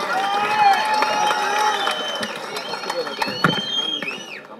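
A crowd at a May Day event applauds and cheers to welcome actor Vijay Sethupathi, loud and continuous, with a voice talking over the clapping.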